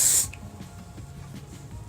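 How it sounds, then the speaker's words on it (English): A short, loud burst of hairspray hisses from an aerosol can onto a performance bun, lasting about a quarter second before fading into quiet room tone. "you would spray all this with tons of spray"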